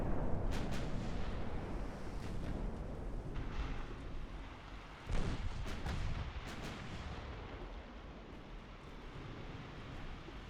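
Battleship main guns firing in a naval strategy game set in an 1897 Ottoman campaign, a dense rumbling barrage with several deep booms, one heavier blast standing out midway, continuous and fairly loud without talk.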